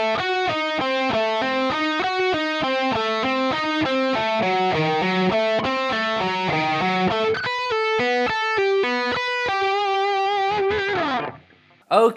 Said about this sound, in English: So from the start of that diminished lick to the end, sounds like this.